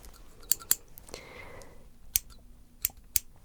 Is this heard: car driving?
no